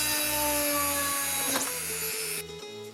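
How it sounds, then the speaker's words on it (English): Power drill boring holes for wiring in a DIY smoke extractor build: a steady, loud, high-pitched whirring drone that stutters in short pulses, then cuts off near the end, with no talking. "Then the drills to pass the wire for connection."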